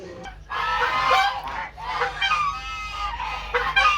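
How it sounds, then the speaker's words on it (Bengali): A nearby duck gives a series of loud, nasal, goose-like honks in quick bursts, with short pauses between calls. "এই যে একটা হাঁস"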